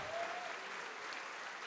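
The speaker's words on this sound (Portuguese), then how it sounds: "isso, aplaude, aplaude, aplaude" A church congregation applauds together, a steady wash of many hands clapping at moderate volume.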